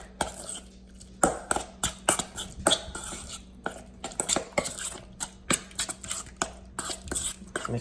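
Chow mein noodles being tossed with salt and sesame oil, with repeated clinks and scrapes of a utensil against a bowl in an irregular, close stirring rhythm.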